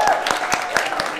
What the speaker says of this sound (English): Big round of applause for our volunteer